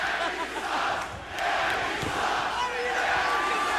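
A large boxing-event crowd chants and roars continuously at a fight, a dense, loud wall of voices throughout.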